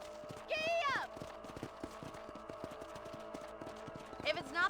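Horse hooves clip-clop in a steady rhythm throughout Red Dead Redemption gameplay while a horse is ridden across a ranch, with voices talking over the hoofbeats at the start and end.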